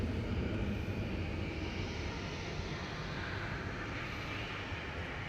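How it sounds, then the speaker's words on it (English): Turkish airliner landing at Manchester Airport, a steady broadband jet roar held at an even, moderate level throughout, distant and continuous with no voices. "Turkish landing in the background."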